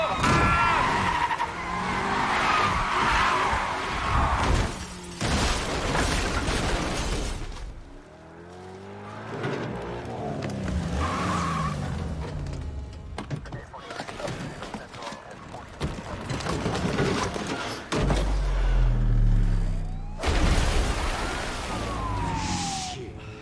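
A car skids and crashes in the racing video game Need for Speed Heat, with loud engine roar, tire squeal and impact noises running throughout.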